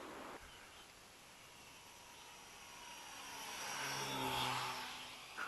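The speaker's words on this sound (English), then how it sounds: "Props are spinning, which is not helping" A twin-motor model aircraft flying with its propellers spinning gives off a steady, fairly faint electric whine and hum that slowly swells louder as it passes closer.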